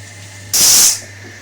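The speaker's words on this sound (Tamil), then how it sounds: "குக்கர் விசில் வந்துருச்சு நம்ம இறக்கிடலாம்" A single loud, high-pitched steam whistle from a pressure cooker bursts out for about half a second over a steady background hum, then cuts off.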